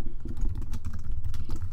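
Rapid typing on a computer keyboard while building a web page in WordPress, a dense run of close, clicky keystrokes with no talking.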